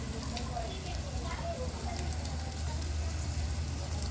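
Washed chicken tipped into fully fried masala sizzles in a low, continuous hiss, fairly quiet and even throughout, with a voice faintly present over it.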